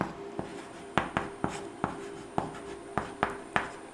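Chalk or marker strokes on a classroom board during a differentiation lecture, about ten sharp taps and short scrapes in an irregular rhythm, close and clear with no talking.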